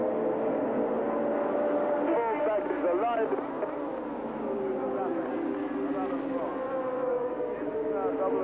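A V6 turbocharged 600-horsepower Ferrari Formula One car races in the 1982 South African Grand Prix, its high-pitched engine whine rising and falling under steady commentary, with other cars droning in the background.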